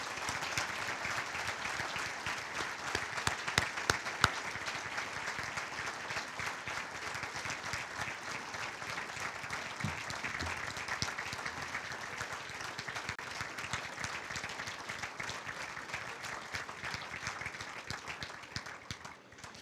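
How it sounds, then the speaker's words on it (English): Banquet audience at a university scholarship dinner gives a long, steady round of applause, continuous crowded clapping that stays even for most of the stretch before fading at the very end. "Rick Frida, Jim and Kathy Morrison, if they would please stand for one more round of applause"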